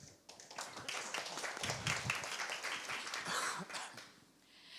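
An audience at a startup pitch event claps, a modest and fairly quiet burst of scattered hand claps that thickens briefly and then fades out near the end.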